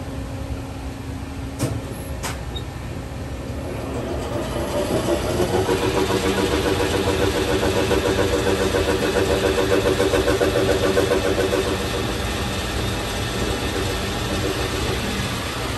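A 1980s Dover Computamatic elevator traction drive motor with a geared machine hums steadily in a machine room, rising to a louder, constant whirring drone after a few seconds and holding at that level.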